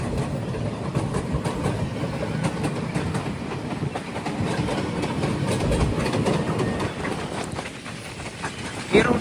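Inside a sleeper class coach of the Poorna Express, the train rumbles along with continuous rattling and rhythmic clickety-clack from the wheels, a steady loud rolling noise with faint background voices.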